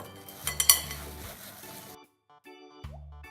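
Apples tossed with flour, sugar and cinnamon in a bowl: soft scraping and stirring with a few bright clinks against the bowl, fairly quiet, followed by a pause and another light swirl.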